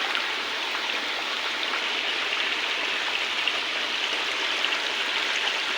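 A fast, strong river current rushes in a constant, loud, broadband roar close by at a fishing spot, with no break or voices.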